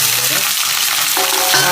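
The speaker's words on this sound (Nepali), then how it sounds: "यसरी तेल तातिसकेपछि यसमा अघिल्लाको हाफ टेबल स्पुन चिनी हालेर यसरी एकछिन गर्न" Sugar sizzling and frying in hot oil in a pan while making Chinese tawa kebab, a steady close crackling hiss with faint stirring throughout.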